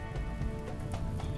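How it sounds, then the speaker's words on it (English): Steady rain falling in the video game RimWorld, a dense continuous patter of drops on surfaces with no voices over it. "Good thing for rain."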